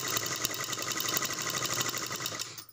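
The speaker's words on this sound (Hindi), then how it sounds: "यहाँ से मैं इसको सिलते जाऊँगी।" A sewing machine stitches pleats in a Patiala salwar with a fast, even, continuous whirring clatter that runs steadily and then stops near the end.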